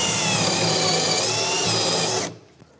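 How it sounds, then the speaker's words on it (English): A power drill whines steadily and loudly as it bores a bolt hole into a wooden workbench for about two seconds, then stops abruptly, leaving near silence. "drill a hole that's deep enough to take the bolt"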